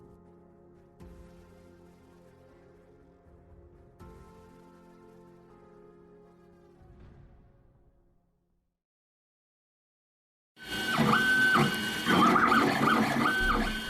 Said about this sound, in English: That's the sound of the machine that's going to destroy manufacturing as we know it.